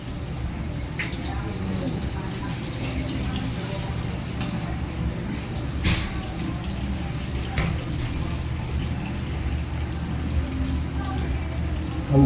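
Liquid pours steadily from cooked mushrooms as they drain, a constant watery rush with a few faint clinks and drips, and a voice speaks briefly over it.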